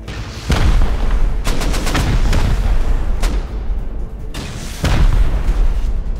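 Bursts of rapid gunfire crack repeatedly, loud and close, with short pauses between volleys and booming reports.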